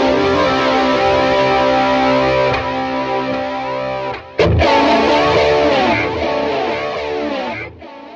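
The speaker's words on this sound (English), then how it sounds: "Stick the flanger in there." Distorted electric guitar chords through an Axe-FX preset with a sweeping, whooshing flanger effect, loud and sustained, with a brief pause midway.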